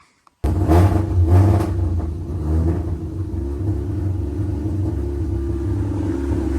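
A Mazda RX-8 rotary engine with bridgeport and manual conversion catches and starts, surging briefly with a revving roar before settling into a steady, rumbling idle close by.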